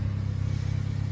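A car engine idling steadily under an open hood, a turbocharged engine fresh from a turbo-to-manifold gasket change, giving a low even rumble with a fine regular pulse and no revving, heard close and alone.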